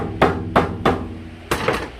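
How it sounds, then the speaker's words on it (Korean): A hammer gently taps metal parts while someone builds a wood-burning stove with two fireboxes in one body: four short, close, crisp knocks, evenly spaced at first, then a pause before the last. "아, 살살 두드려야지."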